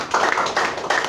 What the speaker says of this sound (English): Clap your hands together for Jesus.